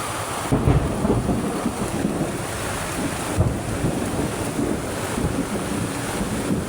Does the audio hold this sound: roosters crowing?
no